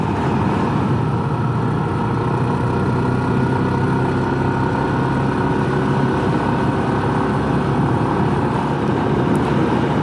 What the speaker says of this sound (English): I always wonder if I'm lugging this motor, just tooling it along in fourth gear.